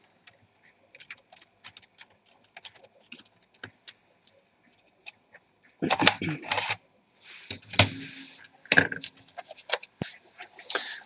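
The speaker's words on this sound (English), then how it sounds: "we can remove the CD also." Plastic clicks and scrapes as the CD drive is slid out of a Toshiba Satellite C855 laptop, scattered light taps followed by a few louder rattling bursts, close up.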